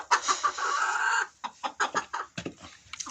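A rooster crows loudly and close by, then clucks in a series of short, choppy bursts.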